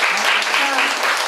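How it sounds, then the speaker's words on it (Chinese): Audience clapping at the close of a talk on marriage equality, a dense burst of applause under a speaker's voice. "我们还是用一个掌声先谢谢讲师"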